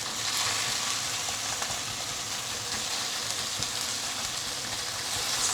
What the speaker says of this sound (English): Total frying time about 5 minutes right now.